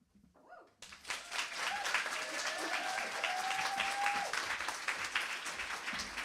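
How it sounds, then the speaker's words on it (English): Audience applause following a spoken-word poetry set at the Homotopia Festival, a steady wash of clapping from a room of listeners that starts abruptly after a brief quiet moment and holds full and even, with a faint whistle or cheer riding over it. "Keep the applause going for a lovely word regular, Casimira."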